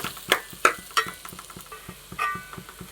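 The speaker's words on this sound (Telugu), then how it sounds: "ఇలా అయితే కలిపి కారాన్ని కొద్దిసేపు అయితే మగ్గనిద్దాం" Wooden spoon or ladle stirring chili powder into white gongura curry in a pan, a series of close scraping strokes with soft clinks against the metal, quiet sizzling beneath, no talking.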